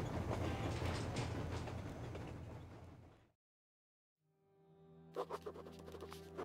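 A train in the video game Metro Exodus rumbles and clatters loudly, fades out to a brief silence, then returns with a low hum and a few sharp metallic clanks.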